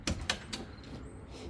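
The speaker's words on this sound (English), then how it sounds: "We'll open the door up." Door of a 1967 Mercury Cougar opening, with a couple of sharp latch clicks and a thump near the start followed by a soft low rumble of the open door.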